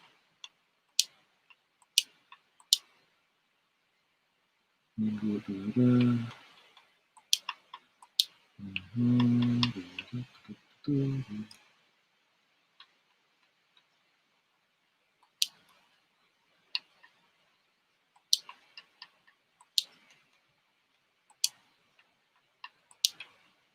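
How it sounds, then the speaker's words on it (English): A clock ticks in a room with regular, sharp, fairly close clicks, broken midway by two short bursts of a deep muffled low noise. "can you hear my clock"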